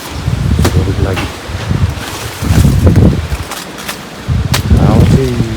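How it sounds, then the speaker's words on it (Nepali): Strong gusty wind roars through village trees in bad weather, a loud, steady broadband rush that swells and eases, while someone talks over it. "यो रुखहरू चाहिँ छिन्नु खोज्दैछ होला आज चाहिँ हावाले।"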